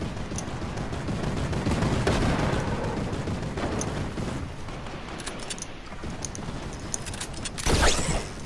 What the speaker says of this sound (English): How none of these shots hit me?